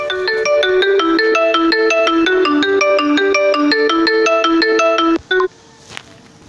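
A Xiaomi phone's loudspeaker plays a bright, tinny repeating melody during a hardware test, loud and close for about five seconds before cutting off abruptly, followed by a couple of brief clicks and quiet room noise.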